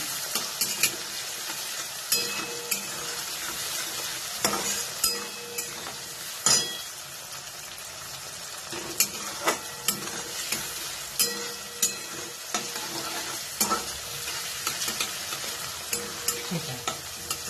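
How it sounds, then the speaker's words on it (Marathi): Onion and tomato fry in a pan with a constant sizzle, while a utensil stirs them and scrapes and clinks against the pan at irregular intervals. "आता याच्यामध्ये टोमॅटो घालायचं मग पाच मिनटं फक्त हलवायचं आहे"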